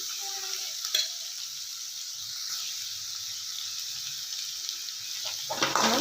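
Boiled chickpeas sizzle steadily in oil in a pan of North Karnataka-style potato curry, with the scrape of stirring now and then; no one speaks.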